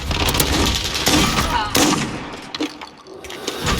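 Rapid automatic fire from a Fennec Vector submachine gun in a first-person shooter, sharp crackling bursts in quick succession that pause briefly before starting again, loud and close.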